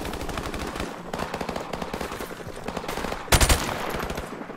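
Gunfire in Call of Duty 4: Modern Warfare: rapid automatic bursts crackle continuously, with a louder heavy volley near the end.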